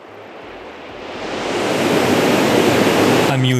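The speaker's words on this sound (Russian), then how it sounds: "Ручеек станет водопадом." Synthesized water sound from the DSP Motion plugin, a trickling stream that swells over a few seconds into a loud, dense waterfall roar, steady broadband rush with no voices.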